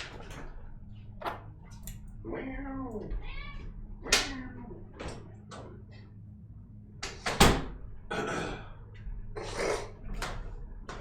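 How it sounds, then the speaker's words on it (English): A house cat meows repeatedly at a door while waiting to be let out, several drawn-out calls close by, mixed with soft door and movement noises and brief talk from a person. "To let the cat out."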